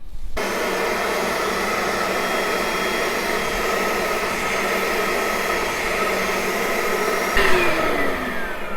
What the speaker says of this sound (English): I'm going to use this, just the dry vacuum portion, to see if I can suck it up.